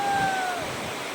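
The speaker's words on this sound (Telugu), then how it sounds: "గోవా సముద్రం." Sea waves on the shore at Goa make a steady, close broadband wash that fades slightly, with a faint thin whistle-like tone near the start.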